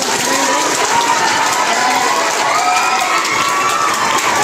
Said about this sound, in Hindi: सारे बच्चे एक बार जोर से ताली बजाएंगे।